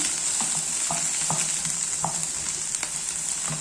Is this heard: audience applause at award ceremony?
no